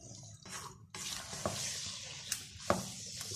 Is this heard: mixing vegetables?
yes